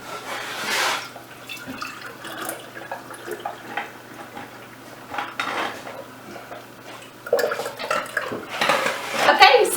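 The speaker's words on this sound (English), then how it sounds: "now we're just going to pour it into our jar or whatever container that you would like to put it in" Honey elderberry syrup is poured from a pot into a jar in a home kitchen, with clinks of metal and glass, drips and scraping, growing busier near the end.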